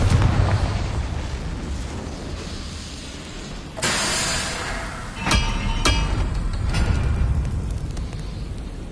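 A Confringo spell blasts in the video game Hogwarts Legacy, its loud booming explosion followed by several sharp crackling bursts over a dense, rumbling game soundscape.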